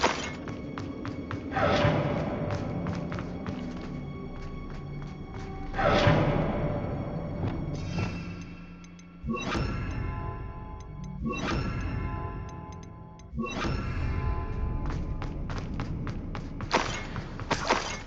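Spell impacts from Bombarda, Confringo and Incendio in Hogwarts Legacy, a series of heavy booming thuds and crackling blasts in repeated bursts, each swelling then decaying, loud and close.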